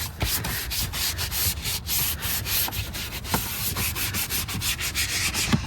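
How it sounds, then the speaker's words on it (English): A brush scrubs car interior trim pieces after a cleaner spray, making a close, steady, rasping rub with quick back-and-forth strokes and no talk. "just come in and give these interior trim pieces a very good scrub"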